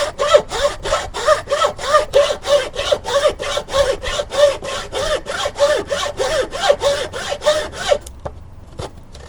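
A hand saw rasps through wood in quick, even back-and-forth strokes, loud and close, about two dozen strokes before stopping abruptly.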